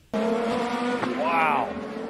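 An IndyCar race car in practice roars loudly and continuously at close range, its engine note sweeping upward, with a sharp bang near the middle hinting at the crash.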